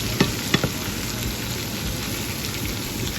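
Vegetables being stirred in a pan with olive oil and a seasoning rub for steak and potatoes, giving a steady broadband sizzle with a few sharp utensil scrapes near the start, close and continuous.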